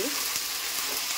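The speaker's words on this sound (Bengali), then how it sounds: "মাংসটা ভাজতে ভাজতে দেখো তেল ছেড়েছে হালকা" Mutton sizzling in hot oil in a pan, a dense, steady crackle that fills the whole short moment, close and fairly loud.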